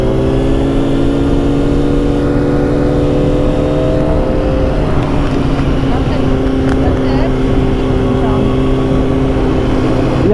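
A Honda CBR 900 RR Fireblade sport bike revs hard during clutch-up wheelie practice, its loud engine note rising and falling in pitch over about ten seconds with a steady roar close by.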